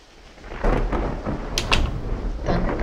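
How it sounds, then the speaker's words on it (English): Thunder rumbles in a video game, a low rolling boom building after a quiet start with a few sharper cracks, sustained at moderate loudness without speech. "Thunder back there."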